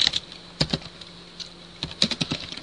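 Quiet keystrokes tap on a computer keyboard while a Linux network command is typed, short irregular bursts of clicks separated by brief pauses, close and alone.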